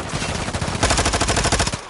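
Rapid automatic gunfire from a video game battle, a dense run of sharp repeated bursts growing louder about midway and continuing steadily to the end, with no talking.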